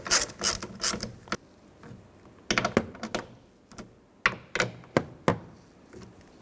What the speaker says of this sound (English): Tighten down the bolts, not too tight, just snug.